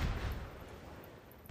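Naval gunfire in the game Teitoku no Ketsudan 4, a heavy deep boom opening the clip and rumbling away, followed by a second sharp burst at the end, with no voices.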